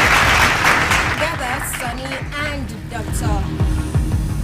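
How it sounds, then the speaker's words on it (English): Audience applause at a secondary school debate competition final, clapping that starts strong and continues under a voice speaking over it. "A round of applause, please."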